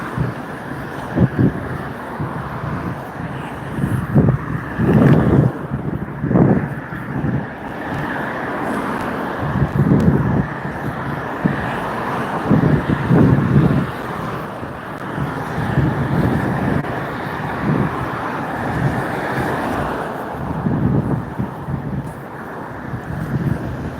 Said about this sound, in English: now there's loads of cars here look, waiting to go out